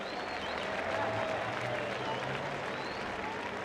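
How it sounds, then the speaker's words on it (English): A crowd at a Formula Drift event in Long Beach applauds and cheers for drifter Matt Field, a steady wash of distant clapping with crowd noise and a voice faintly underneath. "Round of applause for Matt Field."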